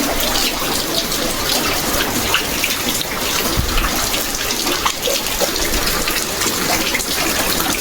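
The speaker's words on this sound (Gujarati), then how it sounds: "ઘણો વરસાદ છે." Heavy rain pounds a tin sheet roof over a house in Gujarat, a dense, loud and continuous patter with occasional heavier drips and no speech.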